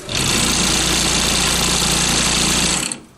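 A pinball cabinet's powerful shaker motor runs at full power, a loud, close, continuous rumbling vibration with a hard buzzing edge that holds steady for about three seconds before quickly dying away.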